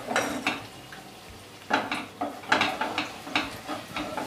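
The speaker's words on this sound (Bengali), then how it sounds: "এক পিঠটা ভাজা হয়ে এলে উপরে তেলটা এইভাবে তুলে দিতে হবে" Hot oil being spooned over a Mughlai paratha deep-frying in a kadai: a run of repeated metallic scrapes and clinks of the spoon against the pan, fairly close, with faint sizzling underneath and no talking.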